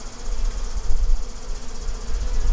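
Honeybees swarm around an open hive inside a bee barn, a loud, close buzzing drone that swells and dips with no voices.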